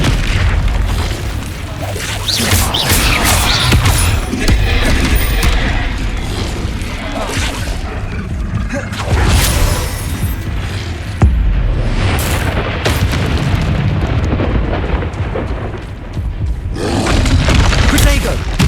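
Spell blasts and explosions from combat in the video game Hogwarts Legacy boom and pop in rapid succession, loud and continuous over game music, with a voice shouting spell names throughout.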